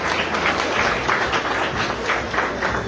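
Wedding congregation in a church applauding steadily for the full stretch, a dense wash of many hands clapping at close range with no clear break.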